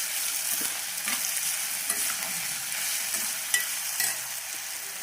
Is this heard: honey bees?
no